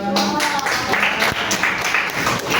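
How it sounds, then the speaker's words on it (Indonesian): A whole class of seventh-grade students clapping together during an Indonesian language lesson, a dense, steady patter of many hands close by that continues throughout, with a voice speaking briefly at the start. "Nah, ini kerja sekali ya satu kelas, tepuk tangan terus nih."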